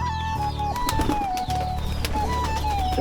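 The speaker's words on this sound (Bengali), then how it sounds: "এটা আমাদের কবুতর ঘর" Domestic pigeons coo repeatedly inside a pigeon house, close and fairly loud, with overlapping low rolling calls and a few soft flutters and knocks, no speech.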